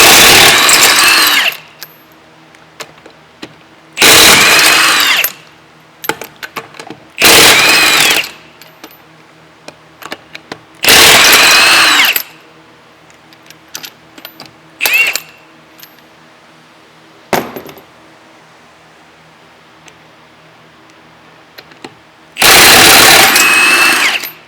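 An impact tool with a 21mm socket and wheel lock removes lug nuts from a 2015 Hyundai Genesis wheel, firing in loud bursts of a second or two separated by quiet pauses and faint clicks.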